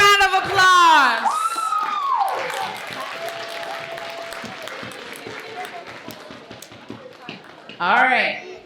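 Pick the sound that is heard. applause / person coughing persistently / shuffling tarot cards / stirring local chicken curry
applause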